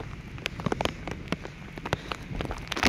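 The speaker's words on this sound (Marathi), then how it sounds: "पावसाने बरसायला सुरुवात केलेली आहे" Rain falls outdoors beside a river, with scattered drops pattering and ticking on nearby surfaces over a soft, constant hiss. No voices.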